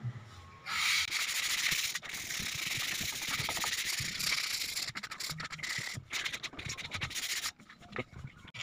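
Sandpaper rubs by hand over a melamine finish, making a steady close scratchy sanding sound with quick back-and-forth strokes that break up toward the end, fairly quiet and without talk.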